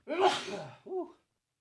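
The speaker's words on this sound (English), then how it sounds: "We got a sneeze coming on." One close, breathy sneeze bursting out, followed by a short voiced exhale or gasp, then silence.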